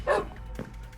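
Dogs in the video game Minecraft, one sharp yappy bark up front followed by a softer second yip, faint and brief over a low background hum.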